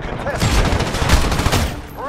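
Rapid bursts of automatic gunfire from the video game Call of Duty: Modern Warfare crackle loudly and continuously, with a voice briefly audible under the shooting.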